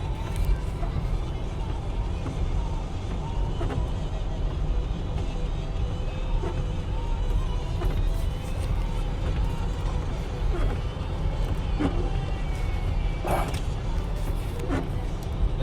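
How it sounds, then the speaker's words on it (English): Steady low roar of passing road traffic, a truck rumbling by and throwing road water in a broadband wash like spray, with faint voices in the background. "this truck is just throwing all kinds of water on me."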